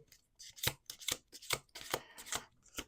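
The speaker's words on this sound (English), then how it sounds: "All right, this is the last shuffle." Tarot cards being shuffled close up, a quick series of crisp riffling bursts and papery slaps in an irregular rhythm, quiet and alone with no talk.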